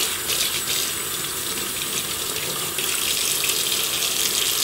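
Tap water running steadily into a sink while makeup brushes are washed with dish soap against a cutting board and silicone cleaning mitt, a close, loud, continuous hiss and splash with no speech.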